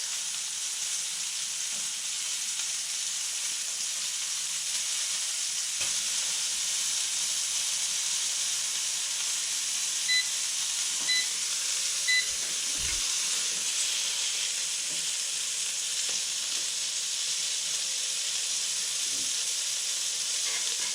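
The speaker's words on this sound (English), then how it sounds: "I'm cooking 2 fillets" Two fish fillets cook in a pan for a Roman-style recipe, giving a steady, even hiss of frying that holds at a constant level throughout, with only a few faint knocks.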